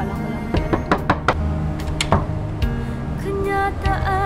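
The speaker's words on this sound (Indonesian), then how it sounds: "Buka pintu, Dai!" Someone raps on a door in a rapid, uneven series of loud knocks, with a steady background hum and tones underneath.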